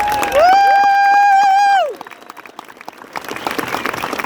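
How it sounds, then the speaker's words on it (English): A long, steady horn-like tone sounds first, then a crowd at a veterans' Honor Flight welcome breaks into a looser round of clapping and scattered cheering, quieter and uneven through the end. "Let's give our veterans a big round of applause."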